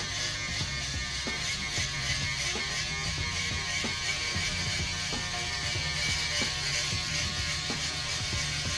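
An electric clipper buzzes steadily and close while shaving hair off a head, with a faint repeating ratchet-like clicking running through its constant drone.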